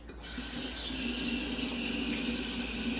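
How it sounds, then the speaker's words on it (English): Tap water runs steadily into a kitchen sink as a whisk is rinsed under it while making custard, a continuous close splashing hiss with no talking. "Rinse my whisk."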